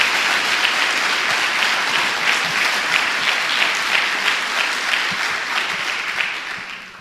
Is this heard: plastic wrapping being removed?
no